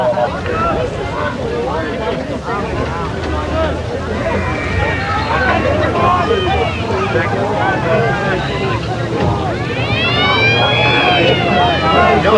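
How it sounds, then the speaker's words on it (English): A long, steady quarter siren at a 1990 Australian football grand final wails loudly over a noisy crowd, rising in pitch near the end while people chatter throughout. "there's the siren for the start of the last quarter here"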